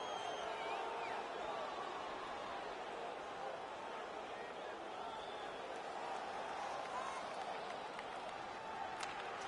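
Crowd noise from an NHL hockey video game: steady, dense arena roar and murmur of spectators reacting after a goal is waved off on review, continuous and fairly even throughout without clear peaks.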